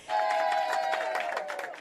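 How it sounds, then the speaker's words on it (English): A crowd cheers and applauds at a landmark flight ceremony with a live band and ribbon cutting, a sustained, fairly loud wash of voices and clapping lasting nearly two seconds. "countless cameras flashing with the crowd cheering"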